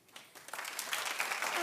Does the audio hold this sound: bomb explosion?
no